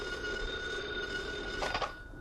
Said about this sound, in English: A short time later, Bert Masters received a phone call at his home.